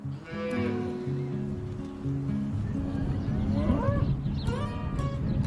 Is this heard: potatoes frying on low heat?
no